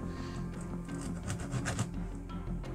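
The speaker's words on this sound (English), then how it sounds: "Sanding stick of some sort." A sanding stick files down a part of a Scythes of the Emperor Primaris miniature conversion. The steady, close scratchy rasp repeats in short strokes over a low background hum.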